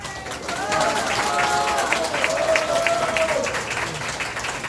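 Applause and cheering from a church lecture audience, a dense crowd sound that holds steady for the whole stretch, with voices calling out through the clapping.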